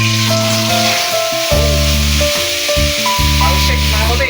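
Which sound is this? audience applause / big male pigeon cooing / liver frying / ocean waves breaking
liver frying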